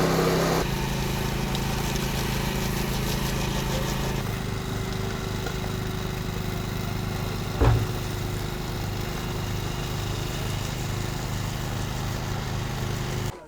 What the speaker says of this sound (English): Now they got the trowel machine back on top. And you can hear it's going quite a bit faster now.